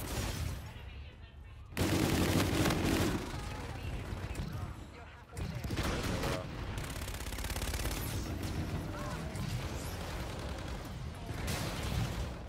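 An LMG Auger Pulverizer machine gun fires in Infinite Warfare, with dense, sustained bursts of loud gunfire that run almost unbroken, pause briefly, then resume, while a player's voice talks over parts of the shooting.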